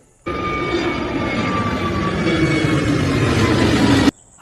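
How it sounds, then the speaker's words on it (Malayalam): A fixed-wing airplane passes overhead as a steady, loud roar of engine noise that holds even for about four seconds and then cuts off abruptly. No voices are heard. "ആ വിമാനം താന്ന് താന്ന് താന്ന് വരൂലേ"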